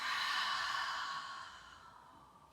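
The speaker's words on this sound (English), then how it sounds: "Exhale through your mouth." A long, soft breath exhaled through the mouth during yoga breathing, a steady airy rush close by that gradually fades away.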